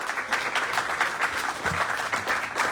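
Audience applause at a stage play event, a steady wash of many hands clapping with no break, fairly close and continuous.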